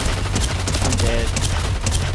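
Gunfire in the video game Unreal comes in a loud, rapid fusillade of close shots that continues without a break through the whole stretch.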